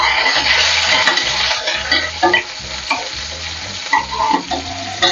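Onion and curry leaves fry in hot oil with mustard seeds and cumin for a homemade Tamil mushroom gravy, a loud, close, continuous sizzle broken by repeated stirring scrapes.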